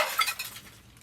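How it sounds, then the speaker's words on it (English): A piece of glass clinks and rattles sharply among litter and cat food cans in a bag, one bright burst that fades quickly into quiet rustling. "Piece of glass."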